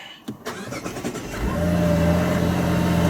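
A Mazda CX-90 engine turns over and settles into a steady running hum, with a few brief clicks at the start and a low drone that stays loud and continuous through the rest.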